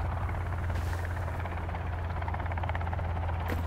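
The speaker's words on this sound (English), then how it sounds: "And a helicopter." Helicopter flying overhead in the survival video game Sons of the Forest, a steady droning rotor hum held at an even level throughout, with no voices.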